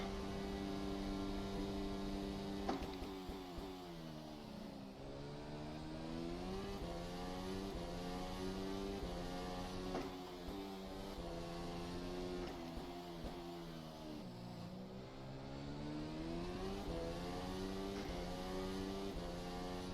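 A Formula 1 car in a racing game, Formula Sim Racing 2019, screams down the main straight at Zandvoort with DRS open. The engine climbs loudly through rising pitch sweeps, dips briefly at upshifts, then climbs again; no talking.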